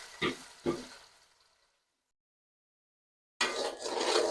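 Washed, drained rice frying in a pan for restaurant-style chicken biryani: two sharp knocks, a pause of silence, then a loud, steady sizzle that starts abruptly and runs to the end.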